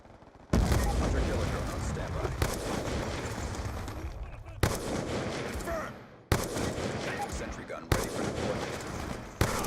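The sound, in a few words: sniper gunfire in video game Black Ops 2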